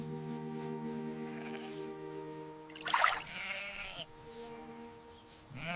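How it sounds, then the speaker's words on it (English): A sheep bleats in an enclosure, a long wavering tonal cry held for several seconds, followed by a short harsher noisy burst and a quieter tail, close and alone. "Farmer John checks on the sheep."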